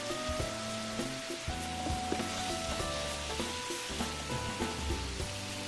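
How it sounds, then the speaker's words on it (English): Worcestershire sauce with a spicy blend and garlic-and-herb seasoning cooking down in a pan, a steady close sizzle with crackling pops, playing alone under soft background music. "I'm going to let that cook down for a second just to get some of those seasonings toasted"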